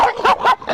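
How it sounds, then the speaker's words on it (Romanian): Several dogs yipping and barking in short bursts, close and fairly loud, as the animals approach a man who has left his motorbike standing alone. "mai vin câini"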